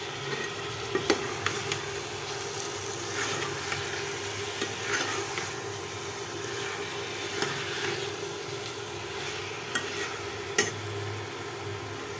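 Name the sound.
washed meat frying in a pan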